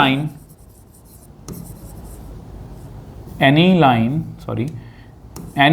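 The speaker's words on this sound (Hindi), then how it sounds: "मैं लिख देता हूं" Marker or chalk scratches against a board during a Class 12 maths lesson on relations and functions, appearing as soft intermittent strokes between stretches of a teacher's close, clear explanatory speech.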